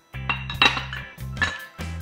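Dry ingredients for banana blueberry bread, including shredded coconut, almond meal, cinnamon, baking powder, bicarb, xylitol and chia seeds, being stirred in a bowl, with a few close clinks and scrapes of a utensil against the bowl over a low background hum.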